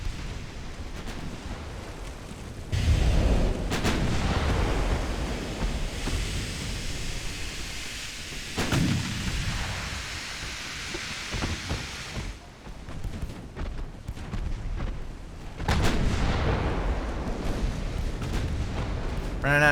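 Naval main guns fire in the warship battle game Ultimate Admiral: Dreadnoughts as deep, rumbling booms that swell and fade over a constant low roar, with several heavy blasts spread across the span.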